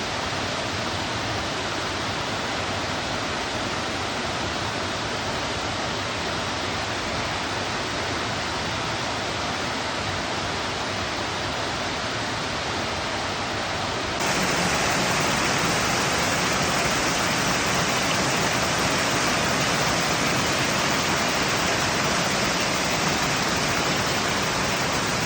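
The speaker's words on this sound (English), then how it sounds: "Check out these Campbell waterfalls I'm coming up to now." The Campbell waterfalls roar as a steady, loud wash of falling water, broad and unbroken throughout with no voices, the rush growing slightly brighter partway through.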